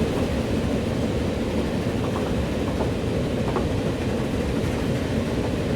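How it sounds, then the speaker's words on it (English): A commuter train in the Transport Fever 2 video game rumbles past as a dense, steady roar of wheels and motor, loud and continuous throughout, with no talk. "here comes another commuter train."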